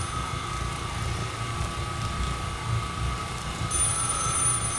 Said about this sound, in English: So now the phone's ringing.